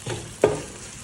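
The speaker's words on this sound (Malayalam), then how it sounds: "നമ്മളിവിടെ ഇങ്ങനെ ചെറിയുള്ളി വഴറ്റിക്കൊണ്ടിരിക്കുകയാണ്" Small shallots are sautéed in a pan, a short close sizzle with a single sharp stir or scrape in the middle, no voices.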